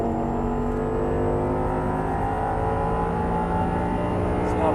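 Audi R8 engine pulling hard under full throttle after an upshift on a track, a loud, steady roar with rising engine tone that builds continuously close by.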